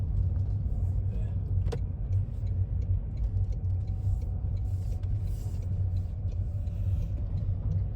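A car turning around to park in a coastal car park on the NC500 route between Helmsdale and Portskerra, heard as a steady low engine and road rumble from inside the vehicle, continuous throughout with faint ticking.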